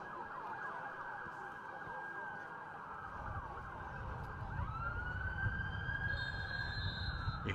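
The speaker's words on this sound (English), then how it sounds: "You hear sirens in the background there." A siren wails steadily in the distance at a college football game, its pitch sliding and shifting, over a low rumble of traffic and faint crowd noise.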